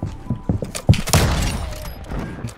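Sniper rifle shots in a video game ring out as several sharp booms in quick succession, one heavy blast trailing into a long fading rumble, loud and close.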